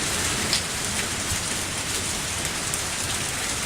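Steady rain from the Lucky Dog 1 + Bad Egg game, falling through cold, damp air and dense fog, a constant close hiss of drops on surfaces with no voices.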